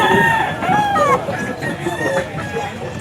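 Young roosters (bull stags) crow repeatedly at a pet market, with several overlapping cock-a-doodle-doo calls close by and clucking mixed in over a faint crowd murmur.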